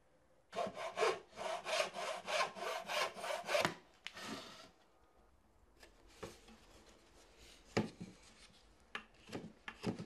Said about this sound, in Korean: 소반의 모양이 갖춰지면 부드럽게 사포로 다듬는다.